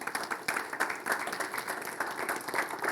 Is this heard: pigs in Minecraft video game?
no